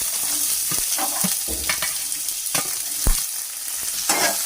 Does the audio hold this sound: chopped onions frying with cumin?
yes